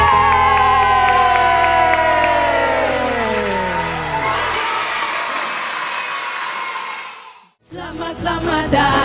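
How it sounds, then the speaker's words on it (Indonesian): Applause from an audience at a children's church service, loud and steady under music for about seven seconds, then breaking off briefly before resuming. "Tepuk tangan."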